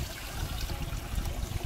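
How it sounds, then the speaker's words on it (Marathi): Water trickles steadily out of a homemade pipe filtered through a cloth, a short, close, continuous dribble with no voices. "हे पाणी आलं इकडं"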